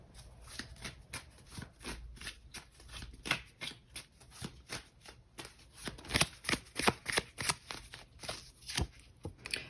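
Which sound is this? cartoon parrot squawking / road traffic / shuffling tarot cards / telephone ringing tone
shuffling tarot cards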